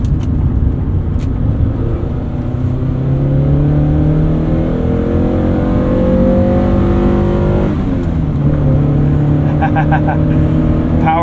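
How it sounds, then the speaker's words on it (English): A 1993 Honda Prelude Si 4WS with a 5-speed manual and a VTEC engine revs hard climbing a hill, its engine note rising steadily, dropping briefly at a gear change, then climbing again, loud and close from inside the cabin. "So I hear that VTEC, but this is not the high revving VTEC engines that we are familiar with in Hondas that came later on."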